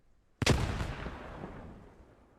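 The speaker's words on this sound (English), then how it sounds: "Grenades are coming in on his position." A single grenade explosion in the Post Scriptum military game bursts sharply, then rolls off in a fading rumble over about two seconds, with no voices.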